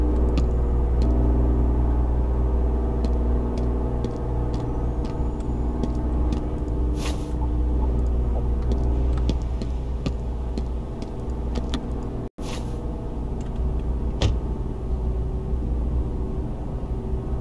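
Car traffic in the video game Flashing Lights: a steady, loud engine drone with sustained hum and occasional light clicks runs unbroken, with no talking.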